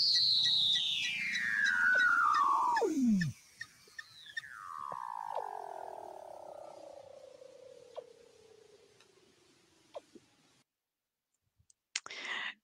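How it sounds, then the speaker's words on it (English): Underwater Weddell seal calls: long eerie descending whistles sliding from high to low pitch, followed by a slower falling trill, with sharp clicks and pops scattered throughout, then near silence. "So Laura, if you can play us some Weddell seal sounds"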